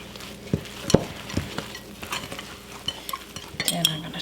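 Pumpkin carrot cookie dough being mixed with flour in a bowl gives irregular close scrapes, soft thumps and occasional sharp utensil clinks against the bowl, with no talking.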